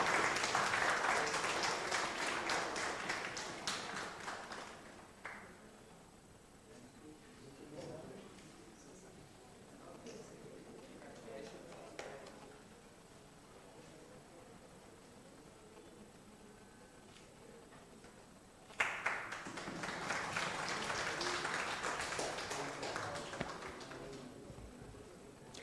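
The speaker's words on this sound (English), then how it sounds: "May I request the entire audience to give a big round of applause for this young boy, Devangshu." Audience applause at a memorial lecture in an auditorium: a loud burst of clapping that fades after about five seconds, a quieter stretch with talking and scattered sounds, then a second strong round of clapping near the end.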